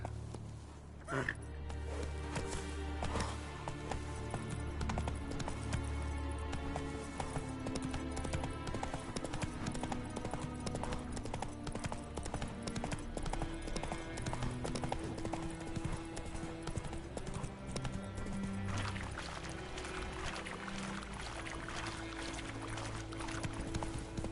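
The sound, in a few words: horse Roach galloping in video game The Witcher 3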